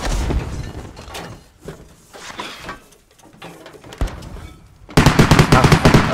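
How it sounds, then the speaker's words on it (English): Gunfire in the Squad military game: scattered bursts of shots with some distant booms, then a sharp, loud stretch of rapid automatic fire near the end. "He's shooting it."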